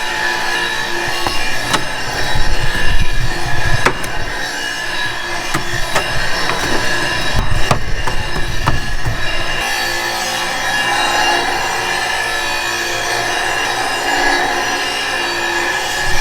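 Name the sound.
scraping debris off lawnmower blades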